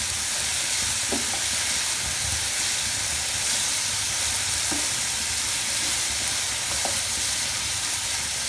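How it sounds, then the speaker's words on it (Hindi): Potatoes fry in oil in a pan for a Spanish omelette, giving a loud, dense, continuous sizzle and crackle with a few soft clinks of stirring. "अब हम इसमें पोटैटोज़ डाल के इसको अच्छे तरीके से फ्राई कर लेते हैं।"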